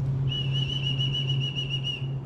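A person whistles to emu chicks inside eggs that are days from hatching, producing one sustained, steady tone lasting about two seconds over a low constant hum.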